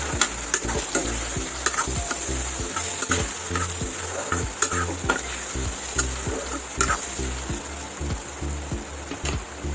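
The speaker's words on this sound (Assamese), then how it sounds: "এতিয়া লৰাই দিওঁ" Spices including meat masala and cumin powder fry in oil in a pan while a spoon stirs them, making a close, continuous sizzle with a rapid, rhythmic clatter of scraping strokes.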